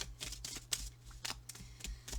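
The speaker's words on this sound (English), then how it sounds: "shuffled the cards" Tarot cards are shuffled close up in quick, irregular riffling bursts, crisp papery slaps repeating in a quiet room with a low steady hum beneath.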